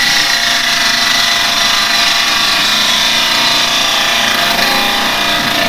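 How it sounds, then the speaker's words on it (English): A carbide chisel making a push cut on a wooden bowl spinning on a lathe gives a steady, loud, continuous hiss and whir with no pauses, and no voices. "If you want to come in and do the push cut"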